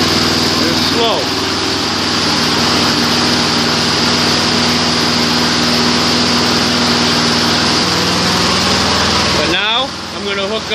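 A small engine idles at slow speed in a mechanic's shop, a steady loud drone running throughout with a shift in pitch near the end; someone speaks over it.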